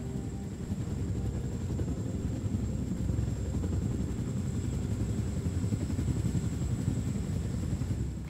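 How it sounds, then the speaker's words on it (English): Helicopter in the shooter game Wolfenstein: The New Order, a steady loud rotor and engine drone running continuously with no speech over it. "Maybe in the chopper?"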